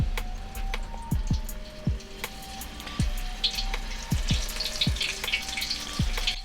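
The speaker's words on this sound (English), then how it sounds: "the way you'll know when these are done is when the oil stops popping and bubbling" Flour-coated shrimp tempura frying in hot oil, a busy crackle and bubbling punctuated by sharp individual pops and drips scattered throughout, close up and without talk.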